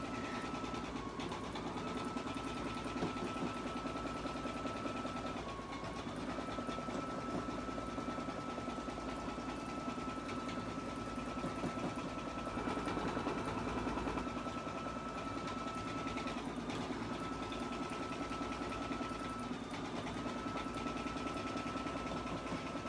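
A machine embroidery stitcher runs small lettering, giving a steady, faint mechanical whir and hum with a fairly even rhythm throughout and a few brief pitch dips, without any talking.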